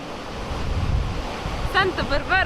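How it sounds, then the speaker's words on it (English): Ocean waves roll in below the fort at Puerto de la Cruz, Tenerife, a steady rushing surf with wind noise on the microphone, while someone talks over it in the second half. "That's because we're right in front of the waves and everything."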